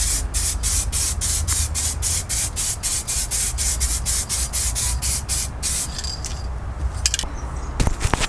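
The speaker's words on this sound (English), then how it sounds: "now I'm going to give it a couple of coats of clear coat." Rapid repeated bursts of an aerosol spray can apply clear coat to a painted sunroof wind deflector from a Mk2 Golf, hissing close and loud in short regular pulses, then stopping as small handling clatters follow.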